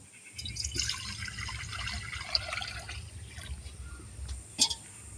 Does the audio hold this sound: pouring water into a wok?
yes